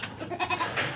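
A lame goat with an injured leg bleats in a series of wavering calls, close by, with some background noise and no talking.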